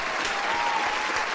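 Steady applause sound effect played during a Crosswords game stream, a dense even clatter of clapping that fills the whole moment at moderate level with no voices over it.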